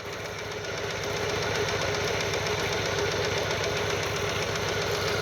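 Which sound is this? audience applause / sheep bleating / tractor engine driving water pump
tractor engine driving water pump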